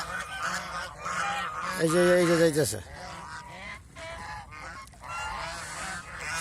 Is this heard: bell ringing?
no